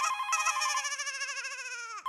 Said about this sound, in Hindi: घंटी बज रही है कब से